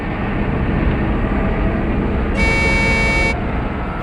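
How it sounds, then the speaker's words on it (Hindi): A loud, steady truck horn blast sounds for about a second in a forest over a constant low engine rumble, with no one speaking. "हॉर्न भी बजा रहा है।"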